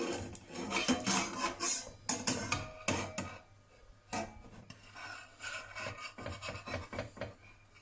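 A utensil scrapes around the edges of a soft, fluffy pancake in a pan, making uneven rasping strokes that come in clusters with brief pauses.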